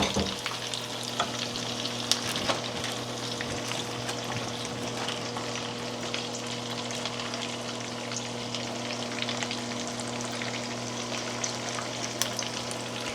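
Salmon frying skin-side down in plenty of oil in a pan, with a steady crackling sizzle throughout and scattered louder pops, close and continuous with no talk.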